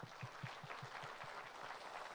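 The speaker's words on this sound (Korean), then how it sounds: "다시 한번 이 세 분과 또 우리 저자를 위해서 뜨거운 박수 부탁드립니다" Applause at a book launch, a faint, quiet patter of clapping from a crowd, with soft rhythmic claps near the front over a continuous hiss of hands further back.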